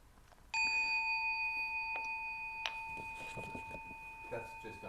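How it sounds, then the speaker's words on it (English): A mindfulness bell rings during a dharma talk: a single clear, sustained metallic tone that strikes once and slowly decays over several seconds, with faint room noise and brief soft sounds around it. "That's just a mindfulness bell."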